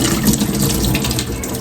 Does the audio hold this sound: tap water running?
yes